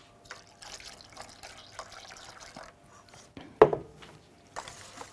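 A little water is poured into beaten eggs for homemade fresh pasta, with soft liquid trickles, faint kitchen clatter and one sharper splash near the end.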